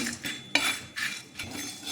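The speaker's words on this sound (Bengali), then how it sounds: "এগুলো একটু কড়ার মধ্যে দিয়ে হালকা একটু নেড়ে চেড়ে গরম করে নেব আমি" Metal utensil scraping and clinking against a wok while dry-roasting spices, repeated strokes in an uneven rhythm, close and moderately loud with no talking.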